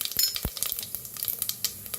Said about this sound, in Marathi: त्याच्यात टाकूया 1 चमचा जिरं मोहरी चांगली तडतडू द्या